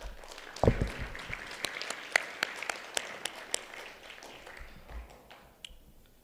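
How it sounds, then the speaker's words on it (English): Audience at a community Ramadan iftar dinner claps in scattered, sharp bursts, moderately loud and close, thinning out toward the end. "Let's give each other a round of applause."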